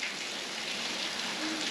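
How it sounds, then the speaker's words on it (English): Steady rain pours down outdoors in Tokyo, a dense continuous hiss of drops hitting surfaces, even and unbroken with no voices. "I don't know if you can hear the rain, but it's coming down."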